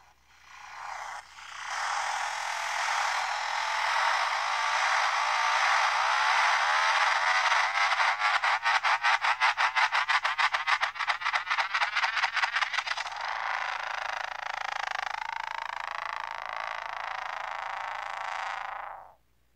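A harsh, buzzing electronic noise from a noise instrument swells in and holds, rattling into a fast pulsing flutter midway before smoothing out and cutting off abruptly.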